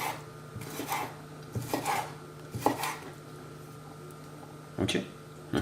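A knife cutting red bell pepper into small cubes on a board, a few scattered chopping and scraping strokes, close and moderately loud, with a faint steady hum beneath.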